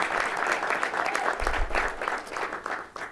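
A crowd at the DC Convention Center applauds with sustained, dense clapping that stays strong throughout before tapering slightly at the end.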